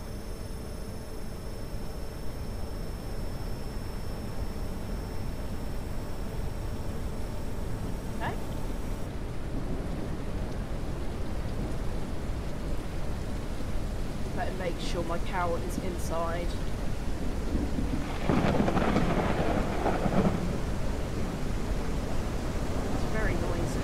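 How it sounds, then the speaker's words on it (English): Steady broadband video game rain hiss runs throughout a ranch simulator, with a low thunder rumble swelling near the end, while a person talks intermittently over it. "Oh, the rain's coming."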